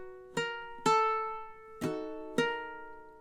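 Four slow, separate ukulele strums from a measure of a theme tune, each chord ringing and decaying before the next, played alone and close.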